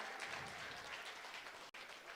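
Wedding guests applaud at a reception in Provo, Utah, a steady wash of clapping at moderate volume that cuts out abruptly for an instant near the end before resuming.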